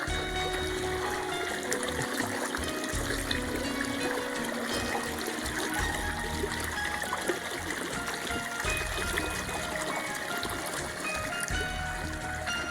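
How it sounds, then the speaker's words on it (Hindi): Hot water gushes steadily from a tube well pipe onto a farm field, a continuous loud splashing and trickling rush that lasts throughout with no talk over it. "काफ़ी गरम गरम पानी निकल रहा है इसके अंदर से।"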